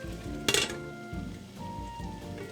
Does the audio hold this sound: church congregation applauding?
no